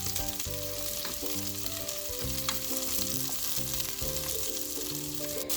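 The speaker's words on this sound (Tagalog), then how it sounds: "Next up is our onions. Just mix it all up with our garlic." Onions and garlic fry in a pan while being stirred, a steady sizzle running throughout, with music playing loudly over the cooking.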